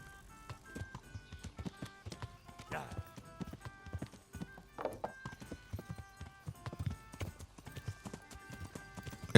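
A horse's hooves clip-clop in a steady trotting rhythm while riding in the video game Kingdom Come: Deliverance, close and crisp, with a brief whinny and faint background tones.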